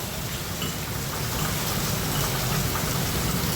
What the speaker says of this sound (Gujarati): જો એક જ ધારો તબાહ તબી વરસાદ પડે છે.